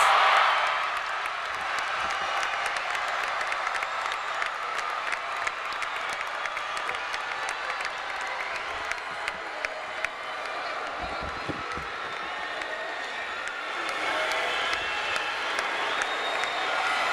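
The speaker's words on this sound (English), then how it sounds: "Please applaud the entire 2012 graduating class of Euclid High School with love and" An audience applauding the Euclid High School class of 2012 at their commencement ceremony, sustained dense clapping from a large crowd with scattered cheers, steady throughout and swelling slightly near the end.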